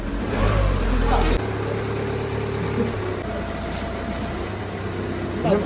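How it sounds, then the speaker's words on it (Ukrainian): A Volkswagen Passat B6 car engine runs steadily with a low droning hum, loud at first and then settling into a quieter continuous rumble. "І так, двигун запустився."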